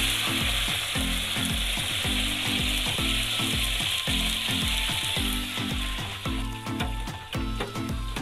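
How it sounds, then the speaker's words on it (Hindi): Onions, a kilogram of them, frying and sizzling in hot oil for a Pakistani degi-style chicken biryani, a steady dense crackle with clattering stirring and scraping over it throughout, close and loud, no talking. "और इसी के साथ हम लोगों ने प्याज डाल देने हैं।"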